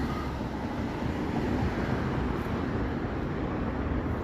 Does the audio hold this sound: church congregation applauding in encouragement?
no